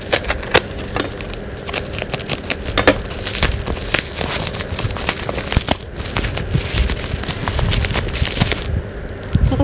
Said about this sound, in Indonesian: tanpa basa-basi langsung aja kita unboxing